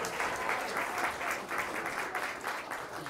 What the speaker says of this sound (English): let's give these kids another round of applause before we get started